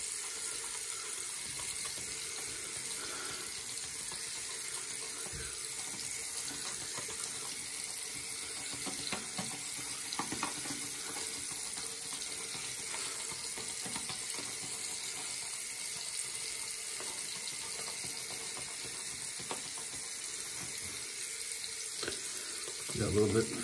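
A shaving brush whips lather in a bowl, making a steady, close, wet swishing and crackling churn that runs continuously throughout with no talk.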